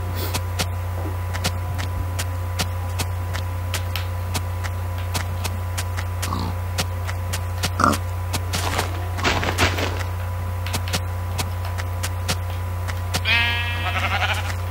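Sheep bleating in the video game Minecraft, a couple of short bleats over a steady droning background and repeated sharp clicks, with no talking.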